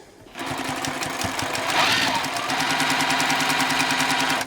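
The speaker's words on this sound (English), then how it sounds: "back to the sewing machine. I'm going to sew a 1/4 inch channel where the seams are." Sewing machine stitching a 3/4 inch channel along the seams of a fabric mask, starting up and then running in a fast steady rhythmic chatter to the end.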